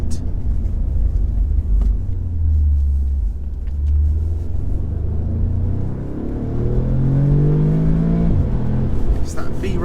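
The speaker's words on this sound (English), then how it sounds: "It's that B-road acceleration where this thing is just an absolute monster." A hot hatch accelerating hard on a B-road, heard from inside the cabin: a loud, deep engine rumble climbing in pitch through the revs, dropping briefly at a gear change, then rising again.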